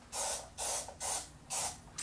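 Cooking spray hisses onto a Frozen Olaf waffle maker in four short, evenly spaced bursts, each a sharp close airy spritz, with quiet gaps between them and no talking.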